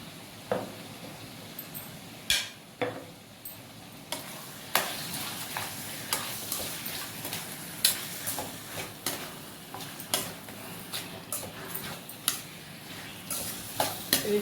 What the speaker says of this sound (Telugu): ఆయిల్లో బాగా ఫ్రై చేసేసుకుంటాను